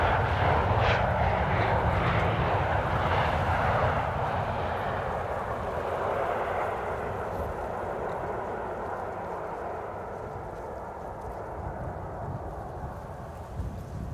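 A KLM airliner arriving from Berlin at Amsterdam Schiphol rumbles loudly at first, a broad engine roar that slowly fades as it moves away, with no talk.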